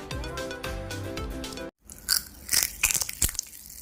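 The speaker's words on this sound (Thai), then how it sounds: "คลิปชิมป๊อปปิ้งแคนดี้ของเราเสียงดังมาก" Music plays, then cuts to silence, followed by close, irregular crackling and crunching bursts of popping candy.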